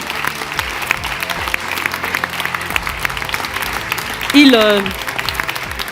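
An audience at an awards ceremony applauds in a steady, moderate round of clapping, while a voice briefly rises over it near the end.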